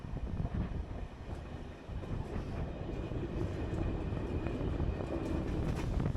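A train rolls along a Hungarian railway line into Budapest Keleti station, a steady low rumble with rattling and faint clicks throughout, heard from on board at moderate level.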